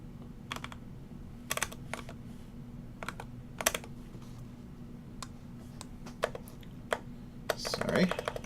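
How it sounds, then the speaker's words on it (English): Keys on a computer keyboard clack in irregular bursts of quick presses over a low electrical hum, ending in a louder flurry of typing. "oh, I'm typing in the wrong place"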